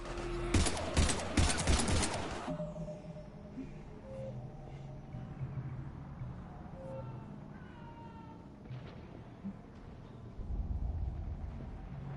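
Heavy gunfire in the video game Mass Effect 3: a dense burst of rapid shots in the opening seconds, followed by a low combat rumble, faint tonal effects and distant background noise.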